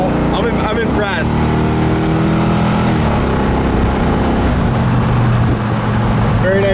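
A 1970 Pontiac LeMans convertible drives down the road, its engine note rising and shifting through gears at close range, with wind noise and a voice talking over it.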